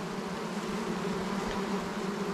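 Honey bees swarm around a healthy, well-populated hive, their dense, even buzzing hum close and continuous throughout, with no voices.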